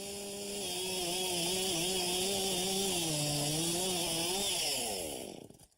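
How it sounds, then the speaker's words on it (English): A chainsaw with dulled teeth laboring through logs runs loud and continuous, its engine pitch sagging and wavering under load before it winds down at the end. "Sounds like you're working that chainsaw awfully hard"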